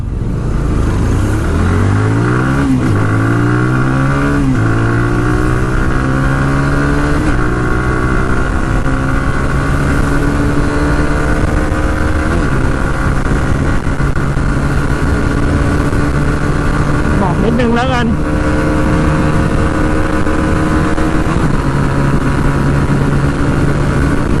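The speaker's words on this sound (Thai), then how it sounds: "ปิดหมดคันเร่งแล้วเนี่ย" A GPX GR200R motorcycle pulls hard at full throttle, its single-cylinder engine whining loud and steady as the pitch sweeps up through several gears over sustained wind rush, with no speech.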